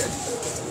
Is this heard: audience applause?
no